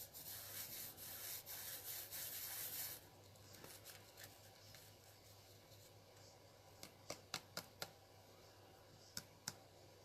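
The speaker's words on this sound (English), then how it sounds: "And then you like burnish it right into the glue." Microfine glitter is burnished into glue in a papercraft project with a soft, close rubbing scrub for about three seconds, then quiet handling, with a few sharp faint clicks toward the end.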